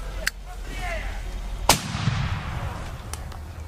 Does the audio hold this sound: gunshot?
yes